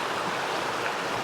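Creek water rushes steadily under a wooden plank bridge in a forest, a continuous close wash of flowing water with no voices.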